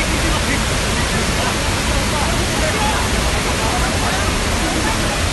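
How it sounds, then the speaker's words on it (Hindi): Flood water in Himachal Pradesh pours and rushes in a loud, dense, continuous roar close by, with voices mixed in beneath the torrent. "पूरे तरह पानी गिरा है"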